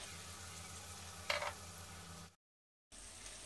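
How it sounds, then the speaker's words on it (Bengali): Masala for a Bengali chhana dalna sizzling and frying in a pan, a steady close hiss with a brief sharper splash as water is poured in, then a short cut to silence. "এখন একটু জল দিয়ে দিচ্ছি ওই"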